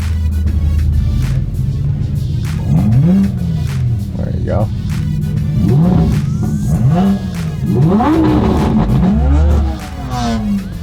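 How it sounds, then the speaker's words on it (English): Several drag cars, among them a Ford GT and Toyota Supras, rev their engines hard in turn at a half-mile airstrip race, repeated rising vroom bursts close by over a steady idle, with people chatting underneath. "Little rev battle."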